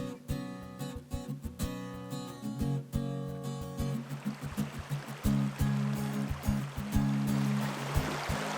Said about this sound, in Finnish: No siinä on purosuu.